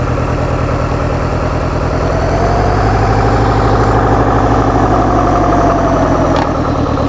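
A rebuilt two-stroke engine idles roughly, loud and close, with a continuous low throbbing drone that swells slightly partway through.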